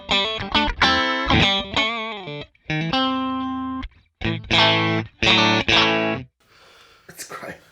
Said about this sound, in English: Right, Fender Twin Reverb.